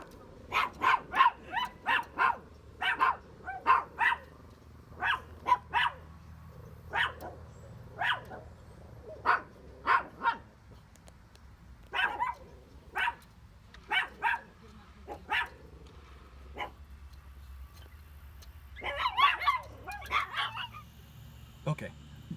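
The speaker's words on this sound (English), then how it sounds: "As my dogs go crazy as the people walk by." Several dogs bark excitedly at people walking past, a long run of loud, sharp barks in irregular bursts with short pauses, some yips mixed in, heard indoors.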